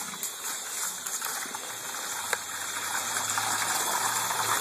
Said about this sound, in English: the water that comes out of my tap is extremely hot